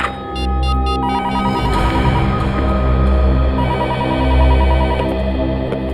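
A telephone rings on a crime-drama set, its electronic bell trilling in repeated bursts, loud and close, sounding alone without any voices.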